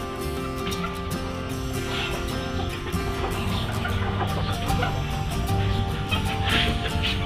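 Chickens cluck steadily in a busy barnyard while being fed papaya peels, with overlapping calls and a constant low background hum.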